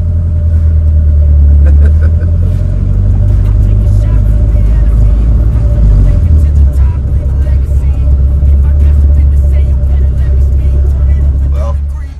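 A project car's engine runs close by, a loud, deep, steady rumble that shifts in pitch slightly partway through before settling into a steady idle.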